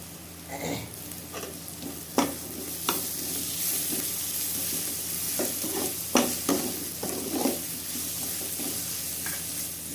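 Ginger garlic paste and crushed green chilies fry in a pan with a steady, close sizzle. Repeated scraping stir strokes break in over the hiss, and no one speaks.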